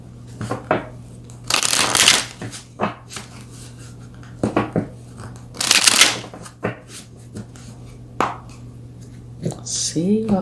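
Tarot cards riffled and shuffled in two loud bursts, with softer taps and card handling between them and a voice speaking intermittently.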